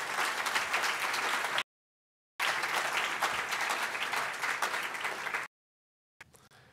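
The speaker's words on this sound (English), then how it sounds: "I think they deserve a round of applause" An audience at a live tribute event breaks into applause, dense steady clapping that cuts off abruptly twice before a final faint burst.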